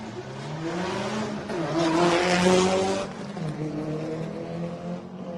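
A Subaru rally car, orange, racing head-to-head on a special stage of the Adelaide Hills Rally, its engine note rising and swelling mid-pass with a brief tyre scrub before fading, steady and fairly close with no talk.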